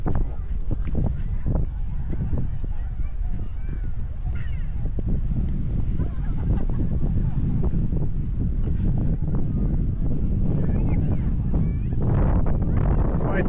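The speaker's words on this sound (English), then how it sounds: "It's quite windy, to be honest." Steady wind buffets the microphone throughout on a hot sandy beach in Tenerife, a dense low roar with scattered gusts, while distant voices and beach activity sit underneath.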